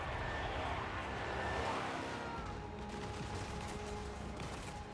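Battlefield gunfire and mortar blasts from Total War Warhammer 3 rumble through a dense, noisy mix of distant shots and explosions, with a voice talking intermittently over the din.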